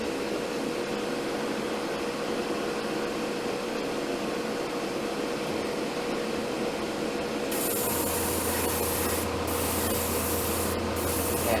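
An airbrush sprays paint onto the interior parts of an Academy SBD-5 Dauntless model aircraft, making a continuous close hiss. A low steady hum joins partway through.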